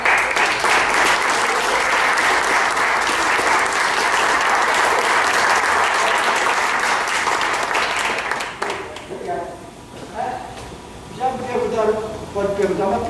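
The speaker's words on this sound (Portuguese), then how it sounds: "eu quero pedir uma salva de palmas" Dense, loud audience applause fills a cultural event at Sesc in Acre, Brazil, holding steady for about eight seconds before thinning out as a person begins talking.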